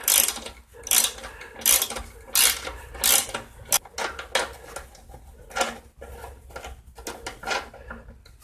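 Ratcheting wrench clicks in repeated bursts while a bolt comes off the oil fill tube of a dirty 2002 Craftsman Tecumseh 4.25 HP small engine, close and fairly loud with short pauses between strokes, no talking.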